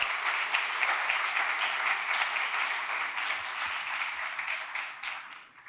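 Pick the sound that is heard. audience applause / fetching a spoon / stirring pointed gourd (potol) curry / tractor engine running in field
audience applause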